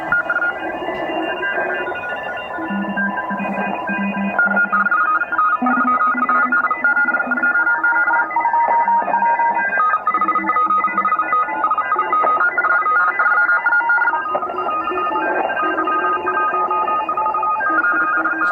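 Steady stream of overlapping radio signal tones from a CRK10A QRP radio heard through its phone jack, loud and continuous with beeping pitches shifting up and down and no talking.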